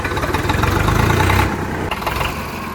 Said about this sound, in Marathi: किर्लोस्कर इंजिन आहे म्हणून